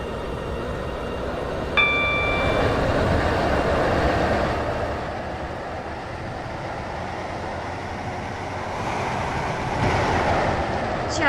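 Train motor sounds from the SCR video game: a steady rumbling engine drone lasting throughout, with a brief bell-like tone near the start and slight swells in loudness, no talking.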